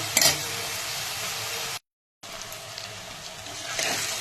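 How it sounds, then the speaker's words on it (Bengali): Onions fry in a pan with steady crackling sizzle and stirring scrapes, broken by a brief cut to silence midway before the sizzle resumes. "পেঁয়াজটা হালকা ভাজা ভাজা হয়ে গেছে আর একটু নরমও হয়েছে।"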